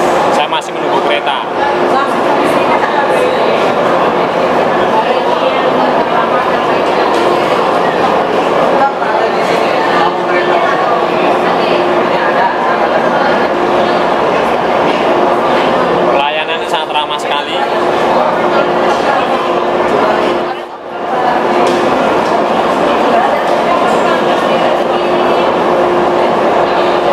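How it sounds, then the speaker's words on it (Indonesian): Jakarta MRT metro train rumbling into a crowded station, a loud continuous roar with faint clacking and a brief dip, under a murmur of passengers. "Saya masih menunggu kereta."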